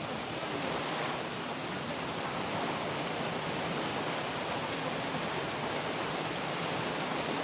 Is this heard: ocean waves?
yes